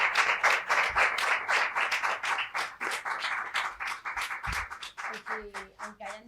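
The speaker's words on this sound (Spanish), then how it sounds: "me gustaría que le diéramos un gran aplauso" An audience at a Spanish book presentation for horror novels gives a rhythmic round of applause in steady, evenly spaced claps. Near the end it tapers off while a voice begins speaking.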